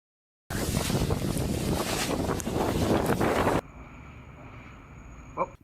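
Strong turbulent wind buffets a skydiver whose parachute twists and spins in midair, a loud continuous roaring rush that suddenly drops to a quieter, steadier hiss with a faint high tone.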